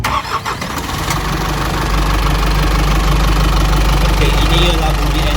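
A 4HL1 diesel engine in an Isuzu NPR81 cold truck cranks briefly, catches and settles into a loud, steady, close-up idle with a rough clattering tone.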